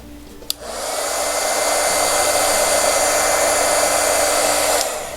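A heat gun blowing on Shrinky Dinks planner charms clicks on after a brief tap, then runs as a loud, steady airy whoosh for about four seconds before shutting off, with no talk.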